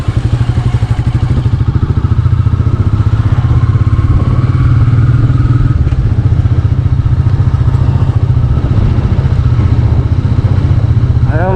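A Royal Enfield Meteor 350 motorcycle carries a heavy pillion passenger, its single-cylinder exhaust thumping in a loud, close, steady rhythm with some clatter throughout.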